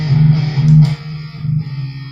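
Distorted electric guitar played through a setup with two channels, one quiet and drenched in reverb, heard as a sustained, heavy chord with a low droning body and a brief swell before it thins out.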